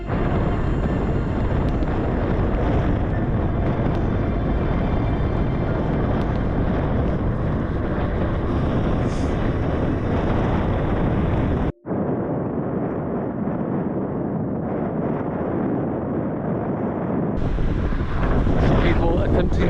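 Strong wind buffeting the microphone of a cyclist riding in a crosswind, a loud, continuous roaring rumble that drops out abruptly for a moment midway, then returns slightly thinner.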